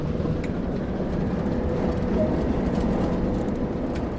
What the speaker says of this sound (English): With the train now moving, it's possible to apply more power and focus on achieving a desired speed